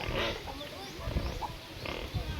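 A pig grunts in a few low, rough snorts at close range, mixed with soft background voices and outdoor noise.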